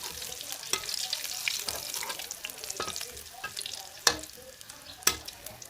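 Banana blossom fritters fry in oil with a steady sizzling hiss, broken by a few clinks and scrapes from a utensil in the pan, moderately quiet and close, without talk.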